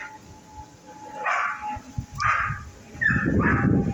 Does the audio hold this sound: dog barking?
yes